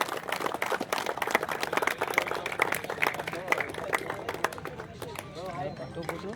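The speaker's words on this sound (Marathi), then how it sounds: "सर्वांनी जोरदार टाळ्या वाजवून त्यांचा सत्कार अभिनंदन करायचं आहे" An audience at an award felicitation for a local premier league cricket tournament claps in a dense, continuous patter under a loud announcer's voice and crowd chatter.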